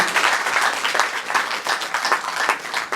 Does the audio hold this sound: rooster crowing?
no